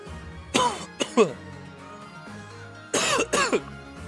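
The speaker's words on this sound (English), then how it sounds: "Sorry for coughing in your guys' ears." Person coughing hard in two bursts of several harsh, throaty coughs separated by a quiet pause, close to the microphone.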